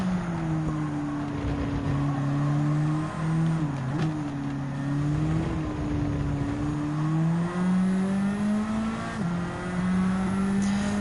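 S15 touring car engine in Gran Turismo 7 at Autodrome Lago Maggiore, a loud steady drone whose pitch dips and climbs through corners, continuous and without talking.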